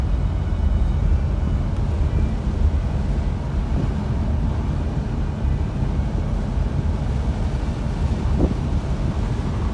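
A 1949 Cadillac with no power steering cruising on a hot day, its engine a steady low rumble mixed with road and wind noise, constant and close, with no talking.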